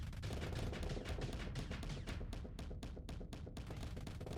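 Spaceship guns firing in the space combat game Starsector: a dense, continuous barrage of rapid shots, loud and unbroken, with an automatic rattling rhythm throughout.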